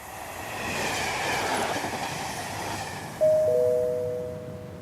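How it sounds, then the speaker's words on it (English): A train pulls into a station platform with a steady loud rumble of wagons, then a sharp high wheel squeal rises near the end and sustains. "The train now arriving at platform 3 is the 14:30"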